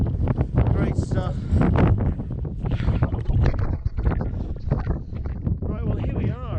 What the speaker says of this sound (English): And that wind, crikey.